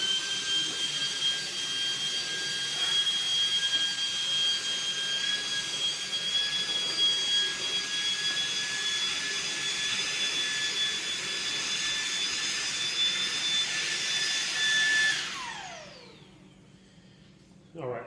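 A Shark WandVac handheld vacuum whines loudly and steadily while sucking up spilled dust from a floor, holding a high-pitched motor tone for about fifteen seconds before spinning down to quiet.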